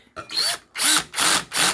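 Electric drill spinning a knife-sharpening setup, the blade centered in the chuck, on a Ruixin Pro RX-009 sharpener; four loud, close bursts of whirring motor with short pauses between them, no talk.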